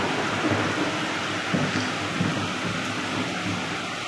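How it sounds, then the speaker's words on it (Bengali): Steady rainfall in Bogura pours down in a dense, unbroken hiss, close and even, with faint deeper rumbles beneath and no voices. "এত সুন্দর বৃষ্টি হচ্ছে"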